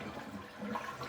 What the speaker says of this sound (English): And then we flush the toilet.